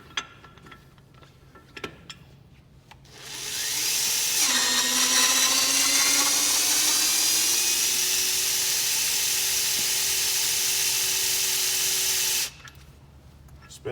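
A TORCUP battery torque wrench tightens wheel bolts on an Axial Flow combine, giving a loud, nearby electric whir that holds steady for about nine seconds, its pitch slowly rising as the bolt comes up to torque, then cuts off abruptly.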